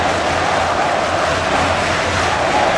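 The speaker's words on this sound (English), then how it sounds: "It's the most out of sync crowd ever." Dense, continuous crowd roar from a wrestling arena in WWE 2K24, a loud wall of noise with no distinct cheers or breaks, steady throughout.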